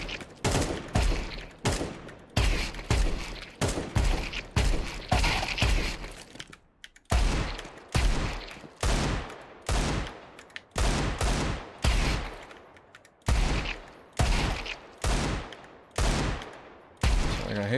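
Counter-Strike gunfire: loud, sharp rifle shots come in short rapid bursts and tap sequences, with brief pauses between them. The shooting runs continuously throughout, with no talk over it.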